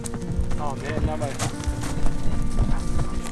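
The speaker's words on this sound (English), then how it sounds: "The mules running around got everyone stirred up." Mules and horses run loose across a ranch pasture, their hooves drumming in uneven clip-clop beats with an occasional whinny, mixed with wind and outdoor background noise.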